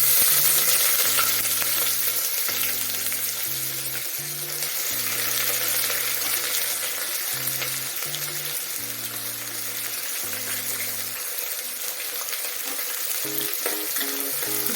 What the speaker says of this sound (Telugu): ఇప్పుడు ఈ ఆనియన్స్ని మనం బాగా మగ్గనిద్దామండి.